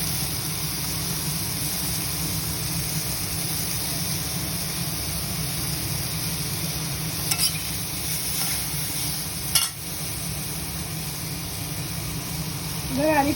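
Bitter gourd fries in oil with salt and turmeric, giving a continuous, even sizzling hiss close by, with a few brief stirring scrapes near the end.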